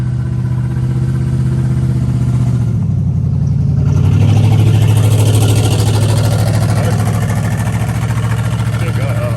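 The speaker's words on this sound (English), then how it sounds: "You got trucks and vans and stuff gonna make a lot of noise" A truck or van with ladders on top passes close by a residential framing site, its engine drone steady and loud, swelling briefly as it goes past.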